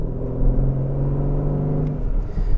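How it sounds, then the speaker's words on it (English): A 2020 Aston Martin DB11 Volante V8 is being driven, its engine producing a continuous low, resonant drone heard from inside the car with no talking. "The sound of that V8 is incredible."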